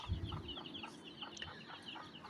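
Deshi village chickens, including naked-neck birds, cluck softly in short repeated bursts, fairly faint against a quiet background.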